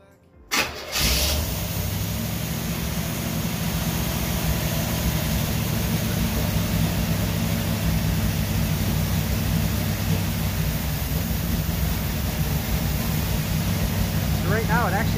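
A 1977 Chevy Camaro V8 catches and settles into a fast cold idle, a steady loud rumble that holds for the rest of the clip with no one speaking.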